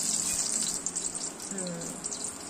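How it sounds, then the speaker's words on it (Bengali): Small eggplant slices fry in hot oil, a bright, steady hiss with soft crackling at close range, while a voice briefly murmurs in the background. "তেল গরম হয়ে গেছে, এবার বেগুনগুলো আস্তে আস্তে ছেড়ে দাও"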